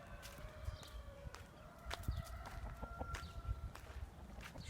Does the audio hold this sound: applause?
no